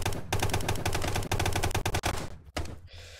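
Rapid automatic gunfire in the Brick Rigs video game, dense machine-gun bursts fired loud and close, with brief pauses between volleys.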